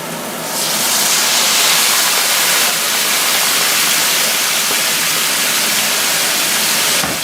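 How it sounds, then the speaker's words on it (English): Marsala wine poured into a hot pan of morel mushrooms hisses into a loud, steady sizzle that rises within the first second and holds broad and close for the rest of the clip, with no talking over it. "Go ahead and add some Marsala wine. I'm going to deglaze the pan."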